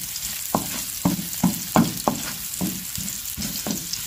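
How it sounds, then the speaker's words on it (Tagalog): Ginger sizzles and fries in a hot pan, broken by about eight sharp stirring scrapes and clatters at a steady rhythm, close and fairly loud with no talking. "Ayan, gisa-gisa lang po tayo."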